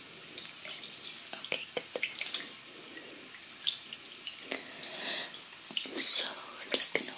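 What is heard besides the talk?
running tap water wetting hair before shampooing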